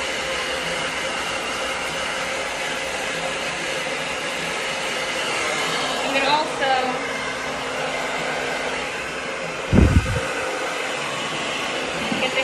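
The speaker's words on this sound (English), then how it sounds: "take a blow dryer and kind of just blast it inside" A blow dryer roars steadily as it blasts air inside a wig cap, a constant loud whoosh with brief fluttering and a short thump partway through, while a person speaks briefly.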